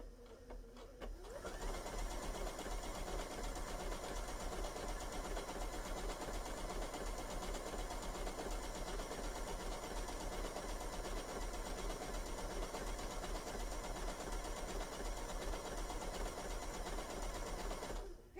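A BERNINA sewing machine stitches knit fabric in one long, even run, its fast motor whir and needle rhythm steady and close from start to finish with no talking.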